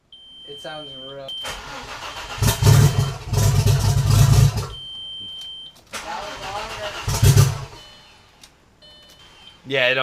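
An Audi car engine cranks and catches twice, each start a loud burst of rough engine roar that settles and cuts out, with people talking between and over the attempts.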